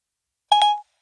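A brief electronic phone dialing tone from a smartphone, a single short two-part beep lasting under half a second, clear and alone with no talking.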